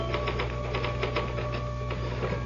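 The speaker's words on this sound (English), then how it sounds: "Can I use the typewriter for a moment?" Quick, irregular keystrokes on a typewriter during a live radio-theatre mystery, close and busy over a steady mechanical hum.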